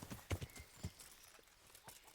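Horse hooves clip-clopping in the medieval video game Kingdom Come Deliverance during a night raid, a few soft, uneven hoofbeats at moderate distance, then fading to quiet.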